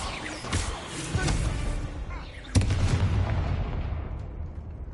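Blasting spell explosions from Hogwarts Legacy on PS5, heavy booming bursts with a sharp crack midway, rumbling debris and a long fading tail, loud and close.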